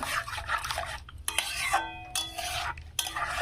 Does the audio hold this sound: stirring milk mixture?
yes